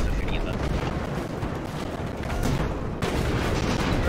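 Rockets fire in the airship battle game Airships: Conquer the Skies, a dense, loud, continuous roar of blasts and booms with sharp bursts layered over each other.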